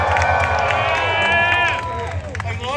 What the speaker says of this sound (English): I love that you're all cheering for me and not anything else.